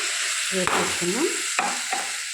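Tomato puree is stirred into a curry frying in a pan, with a continuous sizzle broken by a few scraping strokes of the spoon against the pan, close up and without speech.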